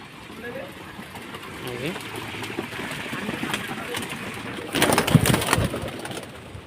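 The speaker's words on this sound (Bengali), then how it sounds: "এই যে কবুতরটা নামছে খাবার জন্য" A pigeon coos in low, soft repeated calls as it comes down for food, with wingbeats and fluttering bursts toward the end, while people talk in the background.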